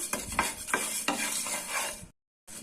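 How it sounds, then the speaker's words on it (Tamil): Coriander seeds and five dried red chillies dry roasting in a pan for a potato curry spice powder: close scraping stirs over a faint sizzle, then a brief silence before the stirring resumes. "இதையும் சேர்த்துட்டு இப்போ இதை வறுத்துக்கலாம்."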